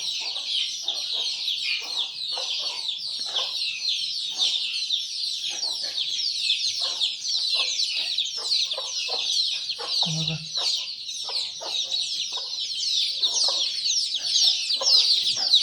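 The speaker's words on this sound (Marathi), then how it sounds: "एक कोंबडी बाहेर गेलेली" Free-range village chickens cluck steadily in a dense, continuous chorus under a loud high hiss of insects, with one brief low sound partway through.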